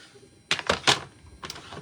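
Scratch card stock being cut down for a butterfly bridge card, heard as three quick close crisp snips in a row, then a pause and one more, with no talking.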